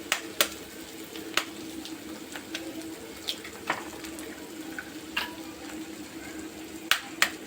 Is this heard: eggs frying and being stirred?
yes